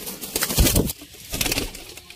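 Sialkoti pigeons, 35-feather birds, cooing close by in two soft throaty bursts with a brief pause between, no voices over them.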